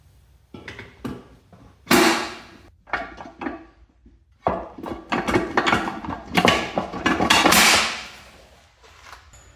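A synchro gear from a Speedtek gearset being hammered onto the counter shaft of an R32 GTR gearbox, heard as irregular close knocks and metallic taps in quick clusters, with no talking.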